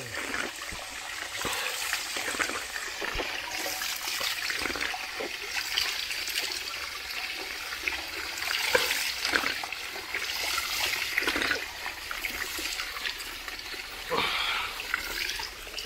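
Spring water at a village spring in a Konkan village pours and splashes steadily, a close, continuous bright rush with small gurgles, no talk over it.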